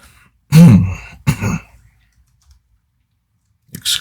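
A person coughs and clears the throat twice in quick succession, loud and close, followed by a brief quieter throat noise after a pause.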